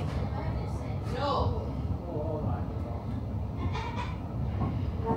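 A modern Blackpool tram rolls along its route, a steady low rumble and hum of the car in motion with occasional squeals and creaks from the wheels, while a voice talks faintly over it.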